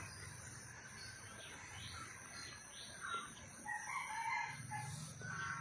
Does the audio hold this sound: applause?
no